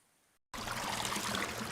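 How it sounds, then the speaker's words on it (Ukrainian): Spring water runs and trickles in a stream, a steady close rushing that starts abruptly after a brief near-silent moment and continues evenly without voices. "дзвенить водичкою в річках, озерах, водоймах"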